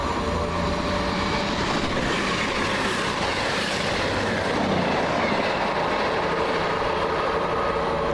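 An Aberdeen to Penzance five-car passenger train passes Water Orton with a loud, steady rumble and wheel noise that fills the whole span, no voices heard.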